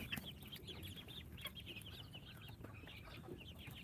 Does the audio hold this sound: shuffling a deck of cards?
no